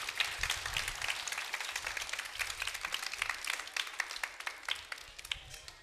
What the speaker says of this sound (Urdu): آپ سب بھرپور تالیوں سے ان ٹیچرز کو داد دیجئے